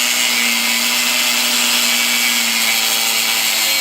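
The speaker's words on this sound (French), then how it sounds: "ensuite ça va être de couper à la disqueuse ma tige filetée" An angle grinder cuts through threaded rod with a loud, steady, continuous high whine and a constant grinding hiss, with no voices.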